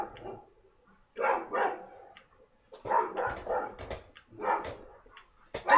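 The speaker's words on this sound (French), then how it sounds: "c'est normal si vous entendez mon chien aboyer" A dog barks through an open window in several short clusters of sharp barks and yips, fairly close and loud, with brief quiet gaps between bursts.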